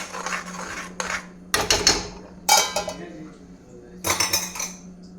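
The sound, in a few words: placing lid on pot of masala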